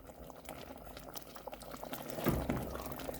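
A pot of Jamaican stew peas with pig's tail simmers and bubbles as it is stirred, giving a soft, steady wet burble that swells slightly toward the end.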